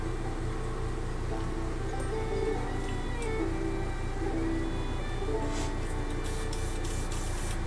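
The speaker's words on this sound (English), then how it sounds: "I'm going to fire up my air compressor." Airbrush air compressor running for model tank painting: a steady, close mechanical hum and drone that holds evenly throughout, with faint small clicks on top.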